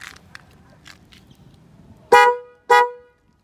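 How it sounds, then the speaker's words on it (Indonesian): Two loud, short honks from the horn of a modified Yamaha Aerox 155 scooter, close up, after a quiet stretch with faint background noise. "Untuk klakson, bisa denger."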